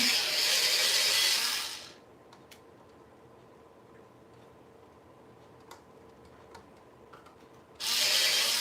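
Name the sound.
quick sharpening of a drawing tool with a sharpener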